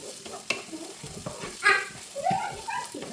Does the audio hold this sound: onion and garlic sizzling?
yes